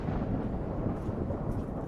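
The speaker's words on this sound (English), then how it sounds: "Can you hear the thunder?" Thunder from a summer thunderstorm in Ontario, a deep continuous rumble that rolls loudly and steadily through the whole short stretch with no talk.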